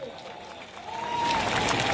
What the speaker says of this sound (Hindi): ताली बजाइए, जोर से बजाइए।